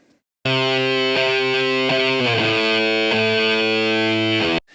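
A heavily distorted electric guitar holds a sustained, buzzing chord that changes a few times, loud and alone, ringing out before cutting off at the end.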